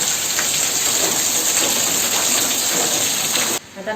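Heavy monsoon rain falls outside in a steady, loud, close hiss that continues without a break, then cuts off abruptly just before the end.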